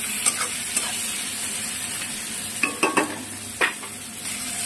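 Potatoes frying in a pan with salt, stirred by hand: a low steady sizzle broken by several sharp scraping clacks of the utensil against the pan, close and without talk.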